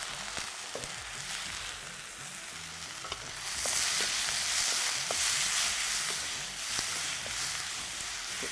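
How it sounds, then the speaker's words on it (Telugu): Brinjal pieces frying in an oil pan with turmeric, a steady sizzle that grows louder partway through, broken by occasional stirring clinks and scrapes. "ఇప్పుడు వంకాయ ముక్కలు వేసేస్తాం. పసుపు వేస్తుంది."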